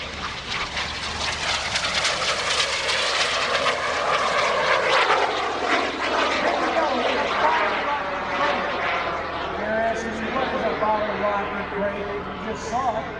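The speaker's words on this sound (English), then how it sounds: "Justin Lewis bringing the heat with the FLS MicroJet" An FLS MicroJet small jet aircraft flying a display pass at the 2016 Greenwood Lake Airshow, its loud whining jet roar swelling and fading as it sweeps past, with an announcer talking over it.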